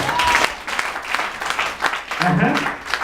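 A church congregation at Macourite applauds to acclaim the Lord, steady close clapping filling a few seconds, with voices mixed in.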